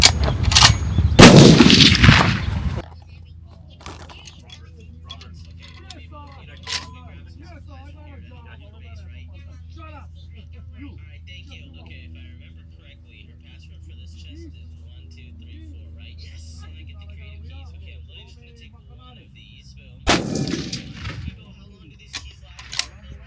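Rifle fire from a custom 7PRC build during barrel break-in: a loud crack and rumbling report opens, then a quiet stretch of low outdoor hum, and a second sharp shot near the end, with people talking in between.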